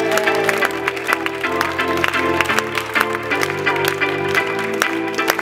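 Audience applause at a resort entertainment show, loud and continuous, mixed with rhythmic music playing underneath for the whole stretch.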